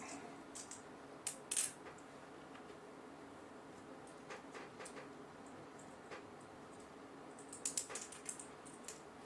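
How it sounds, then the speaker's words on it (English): Small screws fitted into the suspension stay of a 1/14 scale Tamiya RC Volvo FH12 truck kit, heard as a few faint, sharp plastic-and-metal clicks in short clusters against a quiet background. "So let's pop the screws in."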